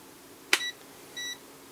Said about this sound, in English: Turn it to the non-contact voltage setting. It kind of beeped at me.